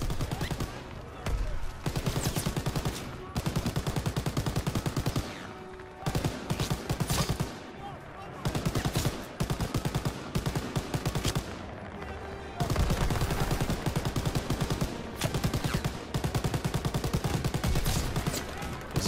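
Sustained bursts of MG42 machine gun fire in Call of Duty WW2, rapid loud rattling volleys with short gaps between them and occasional talk underneath.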